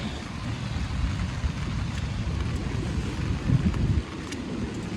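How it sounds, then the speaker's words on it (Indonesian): Strong gusts of wind buffet the microphone on a bridge above a flooded river during a levee breach, a loud, continuous rumbling roar with brief surges, and no one speaks. "Ada angin Mas Andri."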